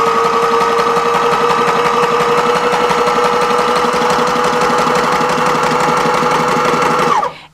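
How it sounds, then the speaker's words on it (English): A Sailrite heavy duty industrial sewing machine stitching fabric runs in a loud, steady rapid mechanical chatter with a constant motor hum, close up and alone, stopping abruptly at the end. "And now you'll see you can stitch off the fabric, which is something that you can't do with some regular sewing machines."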